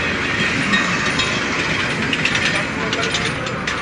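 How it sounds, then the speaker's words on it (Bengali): An intercity express train rolls into a railway junction station close by, a heavy steady rumble with rhythmic rattling and hissing, voices faintly mixed into the din. "নোয়াখালী অভিমুখী আন্তনগর উপকূল এক্সপ্রেস লাকসাম রেলওয়ে জংশন স্টেশনে প্রবেশ করল"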